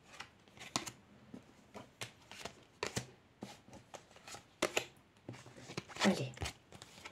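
Tarot cards being shuffled, handled and laid out on a table, with a run of soft, quick papery slaps and rustles coming close by, irregular in rhythm and interrupted by moments of quiet.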